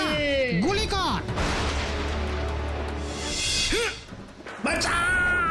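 Gunfire in a Bengali animated cartoon: a sustained, dense burst of blasts rattles between excited cartoon voices, which shout before and after it.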